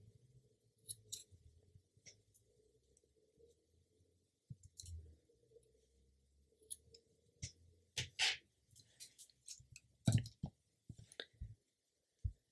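Scissors snip crochet yarn ends on a handmade face scrubbie, several soft, close clicks and snips scattered among faint handling rustles in an otherwise quiet room.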